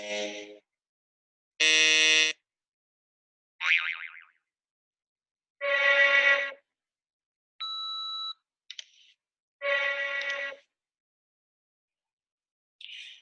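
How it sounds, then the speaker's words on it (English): Attention-training test tones: a spaced series of short electronic sounds, mostly buzzy boings and harsh buzzer bursts, with one clean steady high tone among them and silent gaps between, played alone. "Listen carefully to the series of sounds. You are to press the button each time you hear the high tone"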